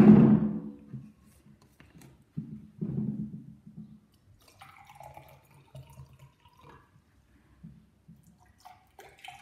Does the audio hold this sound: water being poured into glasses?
yes